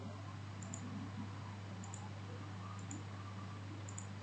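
Computer mouse clicks while working in NX CAD software, four faint, evenly spaced double clicks over a steady electrical hum in a quiet room.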